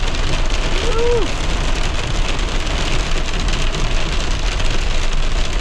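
Heavy rain pours down outdoors in high country as a storm moves in, a dense, steady roar of drops hammering surfaces without pause, loud and close throughout.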